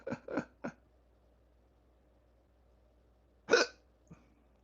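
A person hiccups several times close by: three quick sharp hiccups in a row, a pause of near silence, then a louder hiccup followed by a faint smaller one.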